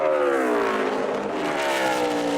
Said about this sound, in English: Jimmy Johnson on the track now